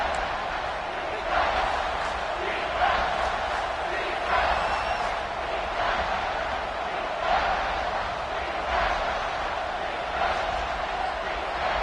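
Stadium crowd noise in a college football video game, LSU at Clemson, forming a loud, continuous roar with rhythmic swells of chanting and cheering and no clear talk.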